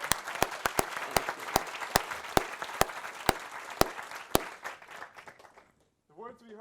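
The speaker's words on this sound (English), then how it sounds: "one more round of applause." Audience applause rising for Senator Wendy Davis, a dense wash of clapping with sharp individual claps standing out, tapering off near the end before a voice begins speaking.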